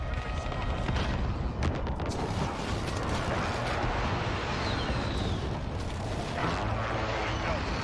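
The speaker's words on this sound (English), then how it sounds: "Enemy precision airstrike inbound" Precision airstrike explosions in Call of Duty Modern Warfare roll out as a continuous deep, rumbling barrage of booms with creaking mechanical texture, loud and unbroken throughout.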